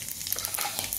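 Cumin seeds hit hot oil with mustard seeds for a tempering, crackling and sizzling in a bright, continuous fizz with scattered tiny pops, close and fairly quiet.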